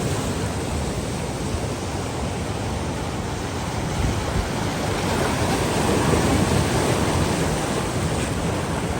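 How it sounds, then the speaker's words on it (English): Strong waves on Lake Michigan in heavy winds, a continuous roaring surf wash with gusty wind buffeting the microphone, loud and unbroken, with no voices. "There's waves."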